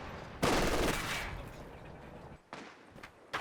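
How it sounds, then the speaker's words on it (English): Machine gun fire in the World War II strategy game Company of Heroes 2: one loud, close burst of shots that fades into echoing decay, then several quieter, shorter bursts later. "Here's the machine gun"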